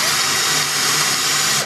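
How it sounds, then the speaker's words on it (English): A power drill boring through a small cone set screw part on a workbench, a steady high whine held for over a second before cutting off abruptly, close and loud with no talk. "And now I'm going to drill a little bit"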